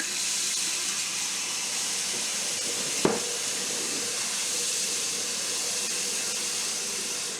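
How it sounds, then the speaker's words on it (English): Water poured from a tap over ham hock pieces in an Instant Pot for lima beans with okra, a steady close hiss of running, filling water throughout with one brief knock partway. "you're just going to cover it with water, just enough to cover those pieces of ham hock"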